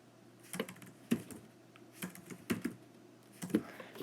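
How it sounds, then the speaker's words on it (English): Keys on a computer keyboard tapped in a few short, separated clusters, close and crisp against a quiet, low background hum, with no talking. "I'm going to type into the internet right now."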